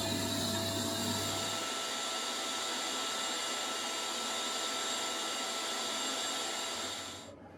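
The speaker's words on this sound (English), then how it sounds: "since I'll be pulling vacuum again" A vacuum pump runs with a steady, loud mechanical whirring hum without a break for several seconds while sealing an aluminum-melting setup, then cuts off and fades out at the very end.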